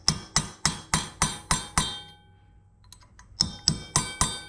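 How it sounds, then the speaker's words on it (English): Steel chisel struck by a hammer to pry a pin out of the rear axle shaft of a 2007-2012 Yamaha Rhino 700, heard as a steady series of sharp, ringing metallic blows, a pause, then four more, close and loud. "Take your little chisel. I'm going to pry that out."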